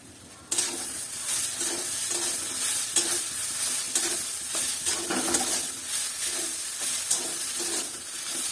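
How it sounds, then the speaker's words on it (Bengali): Ginger, mustard and green chilli paste fries in a pan with a continuous close sizzle and hiss, broken by regular scraping stirs roughly once a second, with no talk. "মশলাটা একটু ভাজা ভাজা হয়ে গেলে আমি একটু বলতে আসবো, জল দিয়ে দেবো"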